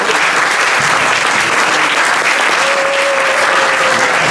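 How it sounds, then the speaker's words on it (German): Audience at a stand-up comedy show bursts into loud, steady applause, dense clapping from many hands filling the room, with a brief sung tone emerging near the end. "Ein großer Applaus für Kajani Retro."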